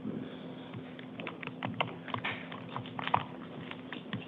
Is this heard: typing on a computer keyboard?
yes